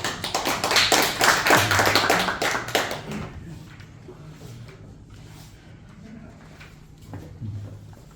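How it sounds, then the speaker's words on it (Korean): Audience in a seminar hall on aerospace and space hazards claps for an incoming speaker, a burst of hand claps that fades after about three seconds into quiet room tone with scattered faint taps. "큰 박수 부탁드립니다"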